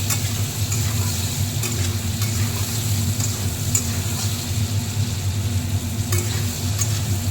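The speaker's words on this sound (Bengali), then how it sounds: "আর হলুদ গুঁড়ো দিয়ে ভেজে নেব পটলগুলো ভালো করে।" Pointed gourd (potol) fries with turmeric in a pan, a constant close sizzle layered over a low hum, with occasional light stirring clicks and no voices.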